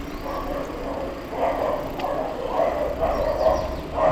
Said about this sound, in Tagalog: May mga aso doon,